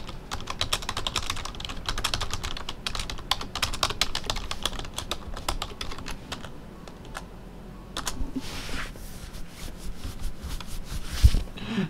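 Rapid, steady typing on a computer keyboard during a Lost Saga match, dense close key clicks running continuously with brief pauses and a louder knock near the end.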